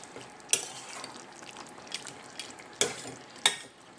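Jackfruit and prawn curry (echor chingri) is stirred in a pot on the stove under a soft, continuous frying sizzle, with a few sharp scraping clinks of the spoon against the pot standing out, close by and without speech.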